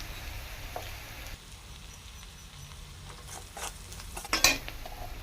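Egg curry base with chili powder and turmeric cooking in a pan, a quiet low sizzle with scattered light scrapes and a brief metallic clink near the end.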